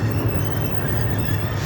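Steady rumbling of a train rolling along the rails, continuous low drone with faint rhythmic wheel noise, heard from inside the car with no talk.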